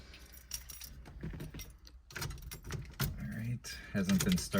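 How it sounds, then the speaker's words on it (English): Keys for a 1979 Dodge Aspen jangle and clink in a person's hand, a loose metallic rattle of several short bursts that grows busier toward the end, with no talking. "Oh, here's the keys."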